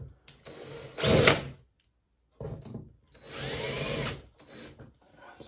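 A power drill tightens a screw on a transducer mount for a Garmin fish finder on a kayak. It runs in two short whirring bursts separated by silence, close and fairly loud, with faint handling clatter around them.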